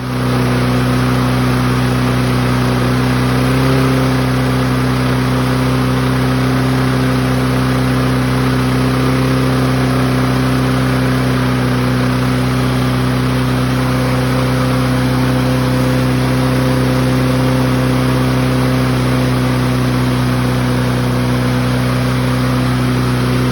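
Kohler engine on a 2015 Lawnboy 10730 lawn mower, choke stuck open, running steadily at a fast, loud idle with a constant droning hum and no pauses, recorded close up.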